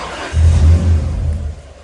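A Toyota 1UZ V8 with an idle-control fault cranks and catches, then revs briefly under throttle with a deep, loud low rumble before settling and fading.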